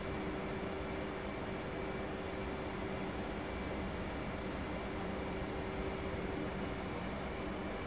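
Steady, unbroken jet engine roar of an F/A-18C Hornet flying in the DCS flight simulator near a carrier, loud and constant throughout with no talking.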